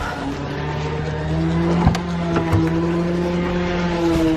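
A BMW E21 car engine runs steadily at idle in a garage with a constant drone, its level rising slightly midway as a couple of sharp clicks and knocks cut through.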